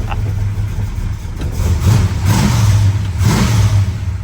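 A 1974 Dodge Dart engine with a Holley-style carburetor idles low just after a cold start, a near, steady rumble with slight surges and faint ticking.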